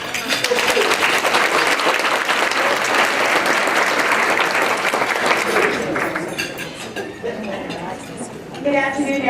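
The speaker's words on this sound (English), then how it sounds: "let's have a round of applause for Steve" A crowd at an awards luncheon applauds for several seconds, full and loud at first, then tapering, with voices and some talking audible beneath the clapping.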